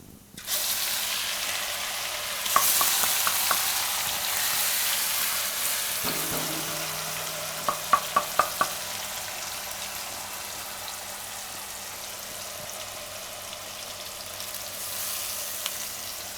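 Ginger, chili and garlic paste sizzles steadily in a hot pan, with short bursts of spoon clicks and scrapes as it is stirred.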